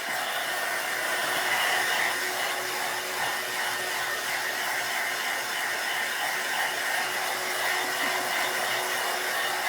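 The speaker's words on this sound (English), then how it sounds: "I'm just going to give this a quick dry here for time's sake." Hair dryer blowing on a freshly painted snowman picture, a continuous close whooshing hum that holds steady and alone throughout.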